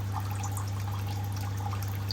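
Water trickles steadily during drip acclimation of small fish for a 180-gallon reef tank, a soft continuous flow over a constant low electrical hum from aquarium equipment.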